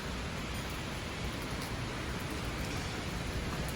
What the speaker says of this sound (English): The rain has just begun to fall.